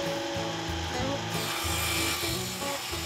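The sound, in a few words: wooden toboggan boards cut by hand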